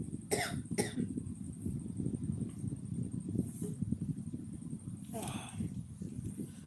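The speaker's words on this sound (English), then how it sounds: "Oh, cough." Two or three short coughs sound near the start, with another rough cough or throat clear around five seconds, set against a low rumbling background.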